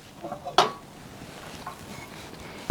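A saucepan is picked up and set down in a kitchen, giving a couple of sharp metallic clanks over quiet room noise, with no talk.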